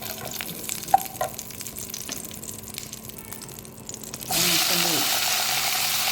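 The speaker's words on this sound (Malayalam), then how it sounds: "അതിൽ നെയ്യ് ഒഴിച്ച് നമുക്ക് കടായി ചൂടാക്കിയേക്കാണ്." Ghee heating in a hot kadai for an Onam musambi and pineapple payasam breaks into a steady, bright sizzling hiss after about four seconds of quiet clinks and room noise.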